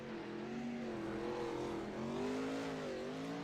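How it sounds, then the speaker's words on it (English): A wingless 360 sprint race car holds a steady, droning engine note as it runs alone on the track, heard from a distance with a slight rise and fall in pitch. "You're going to hear that car revving up."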